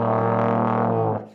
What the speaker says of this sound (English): Multiphonics, to make chords on the trombone.